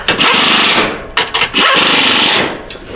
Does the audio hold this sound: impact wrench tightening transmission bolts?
yes